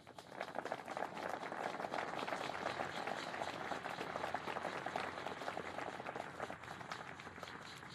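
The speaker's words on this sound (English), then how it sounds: "let's give them another round of applause" An audience at a corporate celebration event applauds with steady, dense clapping that holds at even strength for several seconds and fades only slightly toward the end.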